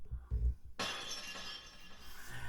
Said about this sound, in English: you got the David Letterman glass breaking thing